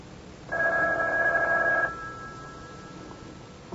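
A single loud, close telephone ring lasts more than a second, then cuts off and leaves a faint fading tone and quiet room noise.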